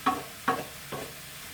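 Food frying in a pan greased with spray oil as it is stirred, giving three short scraping, sizzling bursts roughly half a second apart, close and fairly quiet with no talking.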